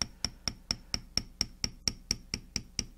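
A leather tooling beveler struck with a mallet, about thirteen sharp evenly spaced taps at a quick steady rhythm, close and fairly quiet, with no talk.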